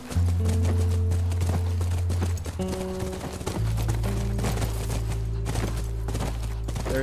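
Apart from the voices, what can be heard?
horse hooves galloping in video game The Last of Us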